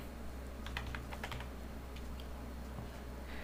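A phone number is typed on a computer keyboard while an online account is set up: quick, light key clicks in short bursts with brief pauses, close and fairly quiet over a low steady hum.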